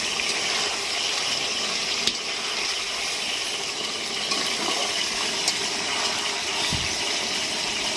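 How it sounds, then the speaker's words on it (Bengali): Water poured into a pot of village-style chicken curry, a continuous rushing gush with a faint sizzle beneath, steady and fairly loud from start to finish. "এবার আমি জল দেবো।"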